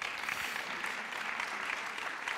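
Audience applause at a climate and sustainability event, a dense, steady clapping from a sizable crowd that holds even and loud for the full stretch.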